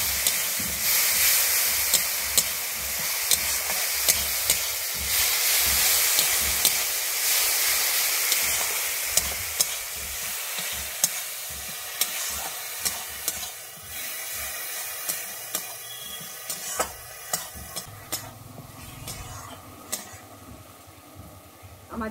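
Yogurt cooking in a frying pan for dahi bhindi makes a steady hiss that slowly fades, punctuated by regular clacks of a spoon stirring against the pan.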